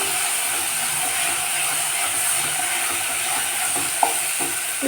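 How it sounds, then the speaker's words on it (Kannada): Chopped vegetables for udi palya frying in a pan, a steady close sizzle with occasional soft scrapes and clicks of stirring, no talking. "ಇದು ಕೂಡ ಚೆನ್ನಾಗಿ ಫ್ರೈ ಆಗಬೇಕು"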